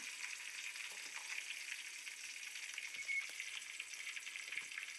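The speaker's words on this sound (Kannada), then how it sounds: "ಫ್ರೈ ಮಾಡ್ಕೊಳ್ಳೋಣ ಇವಾಗ ನೆಕ್ಸ್ಟು ಬೆಳ್ಳುಳ್ಳಿ ಕರಿಬೇವಿನ ಸೊಪ್ಪು ಹಾಕ್ಕೊಳ್ಳೋಣ" Garlic and curry leaves frying in a pan over low flame, a soft, even crackling sizzle that stays faint and steady throughout with occasional small pops.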